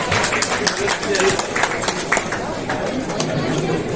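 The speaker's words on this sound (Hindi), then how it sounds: "एक बार जोरदार तालियां आप सभी की मैम के लिए।" Steady, dense clapping from a crowd at a school education fair event in Lucknow, honoring a school principal on stage; continuous applause mixed with crowd chatter and background voices, fairly loud throughout.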